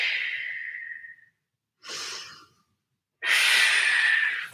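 Three breathy exhales during a Pilates workout, close and airy, with the first tapering off, a shorter one next, and a longer, stronger final breath.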